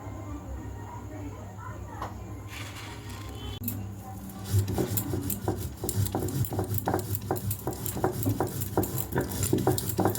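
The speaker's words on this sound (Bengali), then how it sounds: "আমি হলো মশলা করছি পাটা শিলপাটায়" Spices for biryani are ground on a stone sil-pata, the scraping and knocking of the stone growing louder and more rhythmic in the second half while someone talks over it.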